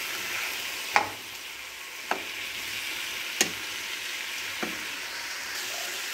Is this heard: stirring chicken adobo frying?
yes